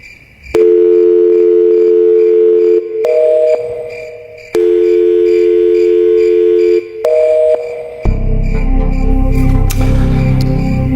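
A telephone call goes unanswered: two long, loud, steady ringback tones, each followed by a pause, then a noisier, rougher tone stretch near the end.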